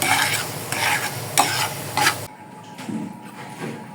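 Pasta with coriander leaves being stirred in a frying pan, a close, brisk scraping and sizzling in several rhythmic strokes that fades to a quieter simmer, with no voices.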